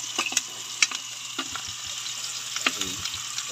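Chopped onions sautéing in a pan, giving a steady soft sizzle with a few sharper crackles and light stirring clinks, close and fairly quiet.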